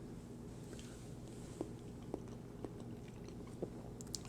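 Someone eats a peeled hard-boiled egg, with soft, moist chewing at close range and a few sharper bites spaced about half a second apart over a steady low hum.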